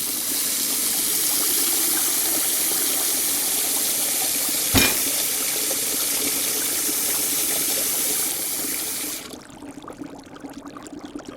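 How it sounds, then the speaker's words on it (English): Water runs steadily from a tap fed by an outside stream into a cottage sink, a continuous broadband rush that holds for about nine seconds with one brief knock midway, then cuts off, leaving quiet room noise. "I already have running tap connected to the stream outside my cottage"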